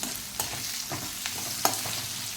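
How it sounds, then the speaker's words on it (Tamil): Onions sizzle and fry steadily in a hot pan, with occasional scraping stirs of a spatula breaking through the constant crackle. "ஒரு 3 நிமிஷம் நல்லா வெங்காயத்தை வதக்கிக்கலாம்"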